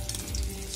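Onion for egg bhurji fries on a high flame, a short burst of steady, moderately loud sizzling with no voices.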